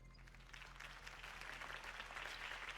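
Crowd applause in a Spider-Man video game cheers a Norman Osborn campaign speech, a faint, continuous patter of clapping throughout.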